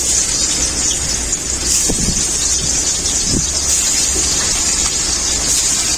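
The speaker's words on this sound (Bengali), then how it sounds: "ওই বেগুন ভাজা তেলেই আমি মাছগুলো ভেজে নেব" Rohu fish pieces frying in mustard oil left over from frying eggplant, giving a steady, loud broadband sizzle throughout with no talk over it.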